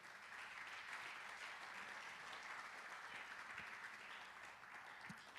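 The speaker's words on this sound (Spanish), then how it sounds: "Dele una ofrenda de palmas al Señor" A church congregation breaks into sustained applause during a Spanish-language Saturday worship service, dense, steady clapping from many hands filling the room for several seconds without a break.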